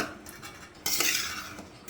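Cooked rice is stirred with sesame oil for tomato or lemon rice, with a spoon scraping and clinking against the vessel in short strokes, including one louder scrape midway.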